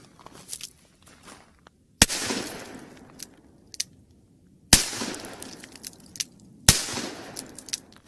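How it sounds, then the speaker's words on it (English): A .44 Magnum fired at ceramic plates outdoors gives three sharp, loud reports spaced a couple of seconds apart, each followed by a brief echoing tail, with faint rustling between shots. "that's what a 44 mag does to some ceramic plates"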